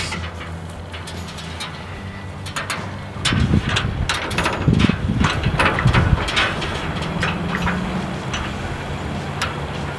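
A hand crank being worked on an old windmill at a windmill museum, with rapid mechanical ticking and ratcheting, then heavier clunking gear noise as the mechanism starts turning.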